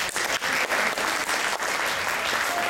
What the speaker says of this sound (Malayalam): എല്ലാവർക്കും ഒന്ന് കൈയടിച്ച് തുടങ്ങാം.